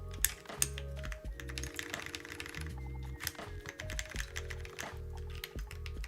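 Brisk typing on a Neo80 CU mechanical keyboard, with clear, close clacks from the key switches in quick irregular bursts and the occasional heavier spacebar press, with no talking.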